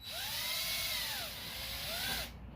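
A power drill bores a hole in wood for a carpenter bee trap, a loud continuous whine with the pitch sweeping up and down twice before it cuts off abruptly.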